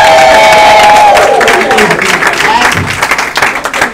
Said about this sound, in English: just give Eric another round of applause.